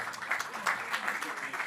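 An academic audience applauds a newly awarded doctorate at a talk, giving a short, fairly quiet round of clapping from a modest crowd heard at some distance.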